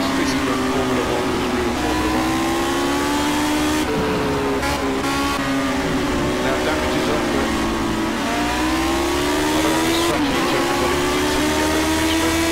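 In the Project Cars video game, a Lotus 78 Formula 1 car races at Spa and its engine howls loudly and continuously, rising and falling in pitch through the gears and corners with no talk.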